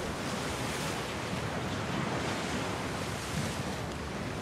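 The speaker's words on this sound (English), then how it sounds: "this storm is getting worse." Storm wind and crashing waves in The Last of Us Part II, a steady loud roar of surf and gusting wind filling the scene without pause, with no talk over it.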